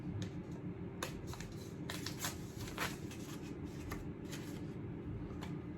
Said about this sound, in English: Let's see what we've got wrapped up here in the paper and all taped up.